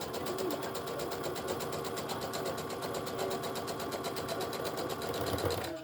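A sewing machine stitches over the raw top edge of a pocket on a fabric period bag, giving a fast, steady, close whirring run for the whole stretch, with no pauses.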